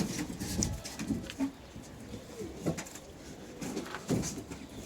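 Young tumbler pigeons coo in soft, low bursts recurring every second or so, close by, over a steady noisy background.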